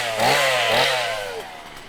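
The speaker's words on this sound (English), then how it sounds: "Someone got a chainsaw in the cornfield." A chainsaw revs in a haunted corn maze, its engine whining up and down in two quick surges before fading, fairly close and loud.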